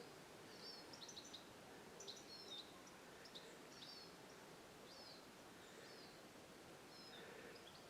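Small birds chirp in quick, high bursts, scattered through a steady outdoor hush in Inverewe Gardens, Scotland, fairly distant and soft, with no voices.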